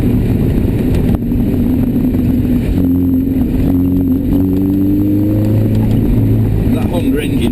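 A Honda 2.0 Type R VTEC car engine drones loudly and steadily, revving up and down with a rising, sweeping whine, close to the listener.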